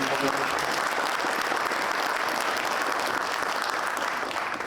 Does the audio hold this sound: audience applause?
yes